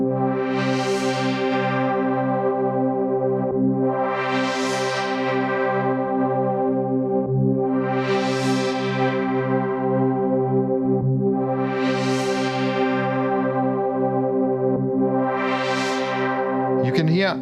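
Sidechain pumping on a synth pattern in Korg Gadget 3 for iOS: a loud, sustained tone whose bright upper layer swells and ducks in a steady cycle roughly every four seconds, alone without talk.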